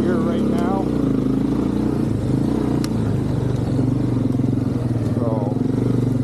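Yamaha Big Bear 350 ATV engine running in high gear on a winter ride, a steady rumbling drone with some clatter, close by and continuous under someone talking.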